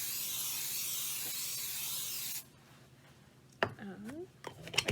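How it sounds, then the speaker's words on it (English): Blue non-stick baking spray hisses from a can into a bundt pan for about two seconds, loud and close, followed by quiet handling noises and a person talking. "I'm going to spray this really well."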